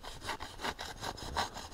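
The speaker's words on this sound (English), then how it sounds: "Sawing." A saw cuts through sturdy wood at a winter campsite, with rapid rhythmic back-and-forth rasping strokes, close and loud, with no talking.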